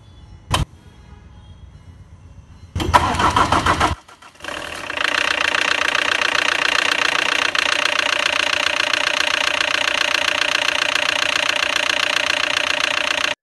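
A car engine with a fuse fault runs loud and steady after a few brief bursts at the start, with a continuous rough idle and no talking.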